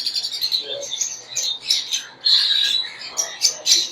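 Pet birds in a breeder's collection squawking and chirping up close, a rapid series of sharp, shrill calls in uneven bursts with brief pauses between them.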